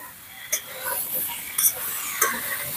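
Raw green mango pieces being fried and stirred in a pan for pickle, with a soft sizzle under a few sharp spoon-scrape clicks spaced across the short stretch, close and moderately loud.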